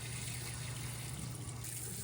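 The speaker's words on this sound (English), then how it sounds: "we're going to fill up the water tank, and we want to fill it all the way up" Water pours steadily into the water tank of a wet dry vacuum as it is filled all the way up, a continuous close gushing rush with no talking.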